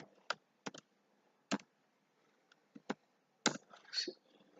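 Computer keyboard being typed on while writing Python code in an editor: a few sparse, separate key clicks and short bursts, near and fairly quiet, with pauses between.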